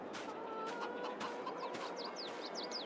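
Chickens cluck repeatedly at a moderate distance in the farming video game Court Farm, with short chirpy calls layered over a steady background hum.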